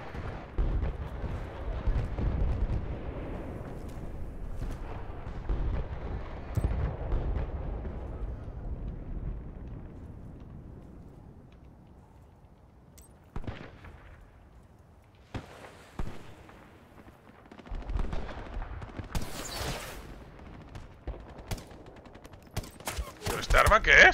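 Gunfire in the game Battlefield Bad Company 2: dense bursts of automatic fire and explosions rumble at first, fade to quieter shots, then return with sharp cracks and a loud burst near the end.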